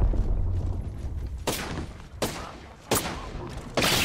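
Video game gunfire in a battle royale match, a few sharp bursty shots spaced a second or so apart over a rumbling background, fairly close and moderately loud.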